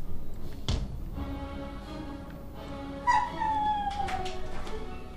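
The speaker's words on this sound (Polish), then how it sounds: "Pies mi wariuje, on chyba myśli, że ktoś jest w domu." A pet dog indoors at home, barking and whimpering with rising howl-like cries partway through, fairly near and alone with no talk, against a steady room hum.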